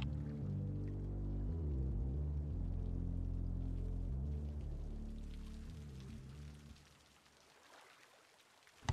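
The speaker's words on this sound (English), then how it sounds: "It's now raining." Rain falls steadily in the Cities: Skylines city-builder, a dense continuous patter over a low rumble that thins out toward the end before a brief sharp bump.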